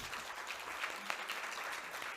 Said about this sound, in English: I would like just to call for applause for our panelists